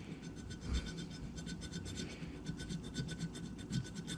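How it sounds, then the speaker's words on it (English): Small triangle file scraping a groove into a metal oil pump part from a 200-4R transmission, a steady rhythmic rasping of repeated strokes, close and fairly quiet. "I'm just using a little triangle file and just trying to cut a straight line"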